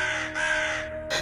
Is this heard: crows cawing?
yes